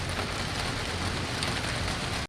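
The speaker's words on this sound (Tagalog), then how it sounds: "Nabutan tayo ng ulan." Rain pouring down during a joyride trip, a loud, even hiss of drops striking surfaces close by, unbroken for the whole stretch with no talking.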